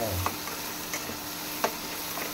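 Onion fries in a pan for onion pakoda curry, a low steady sizzle punctuated by a few light taps and scrapes of a stirring spoon.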